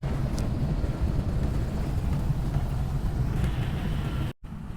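A car cruising slowly through city streets in Turin while hunting for a parking spot, a continuous low engine and road rumble heard from inside the cabin, steady throughout with a brief dropout near the end.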